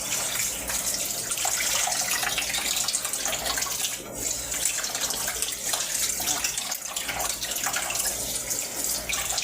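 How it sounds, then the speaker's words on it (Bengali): Water running steadily from a tap while a fish is rinsed clean, a constant splashing hiss with slight variations as the flow hits the fish and the sink. "সম্পূর্ণটা ধোয়া হয়ে গেল।"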